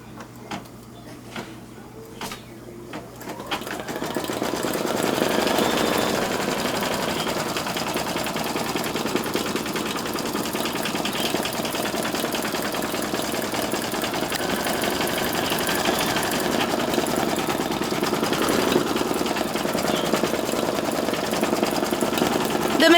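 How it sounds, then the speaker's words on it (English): Brother 4000d embroidery machine stitching at about 1,000 stitches a minute, a steady fast mechanical whirring rattle that starts after a few clicks and runs continuously, close and loud. "We are going to embroider now."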